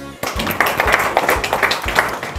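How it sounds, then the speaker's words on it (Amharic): Children in a first-grade classroom break into a burst of clapping, several rapid claps layered together at close range, with a teacher's voice talking over the applause. "ይኸው አጨብጭቡለት።"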